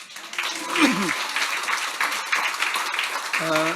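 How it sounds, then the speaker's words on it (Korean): Congregation applause during a church anniversary worship service, sustained clapping throughout with voices speaking and calling out over it. "우리 큰 박수로 환영하겠습니다"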